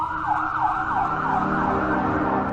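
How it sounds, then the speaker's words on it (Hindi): An ambulance siren wails in a continuous, rapidly rising and falling cycle, loud and steady throughout with no voices. "शीतल ने जल्दी से एम्बुलेंस को फोन किया और समीर को हॉस्पिटल लेकर गई"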